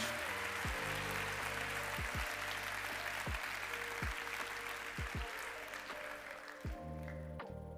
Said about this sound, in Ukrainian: Це все ваше разом із гучними оплесками від усіх ваших друзів